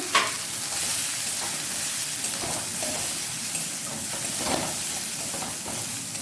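Mutton fries in a pot with cumin, coriander and Kashmiri chilli powder for a Bengali mutton curry, making a continuous close sizzle with repeated scraping stirs of a spoon, and no talking over it.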